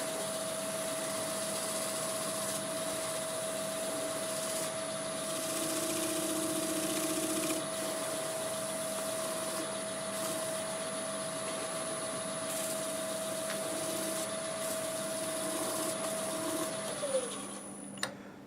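A wood lathe spins a Sequoia bowl at 900 RPM, giving a steady whine and hum that runs continuously, then winds down near the end with a brief clunk.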